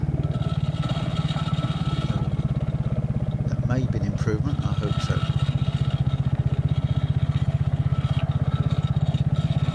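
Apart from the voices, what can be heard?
Triumph Spitfire motorcycle exhaust while riding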